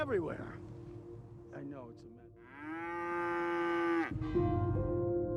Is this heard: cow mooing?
yes